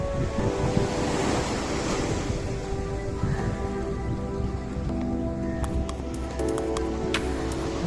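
Ocean waves roll in at the seashore with a soft, continuous wash and hiss, with wind in the background and a few faint tonal sounds at moderate distance.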